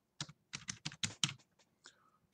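Fast, uneven bursts of typing on a computer keyboard, a run of close key clicks with short pauses, alone and fairly quiet.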